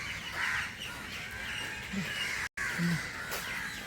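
A bird calls twice with short, harsh caws against a steady hiss of background noise, fairly distant, with a brief dropout between the calls.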